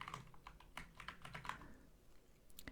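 Quiet, close typing on a computer keyboard, a quick irregular run of light key clicks that keeps going for a few seconds with no voices.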